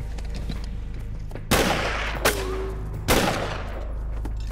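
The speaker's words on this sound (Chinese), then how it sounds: "两枪都打在我同一个地方，老孙，注意开枪位置" Three sharp gunshots ring out in a war drama set during the anti-Japanese resistance, spaced about a second apart over a steady low background hum, each a loud broadband crack with a short tail.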